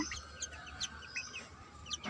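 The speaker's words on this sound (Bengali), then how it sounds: "কবুতর মুরগি খাবার খাচ্ছে খাবার দিলাম" Chickens and pigeons fed on a rooftop garden, with soft clucks and short chirps coming in scattered bursts over a faint steady background, fairly quiet and close by.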